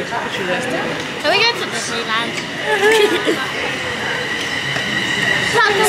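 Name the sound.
train arriving on rails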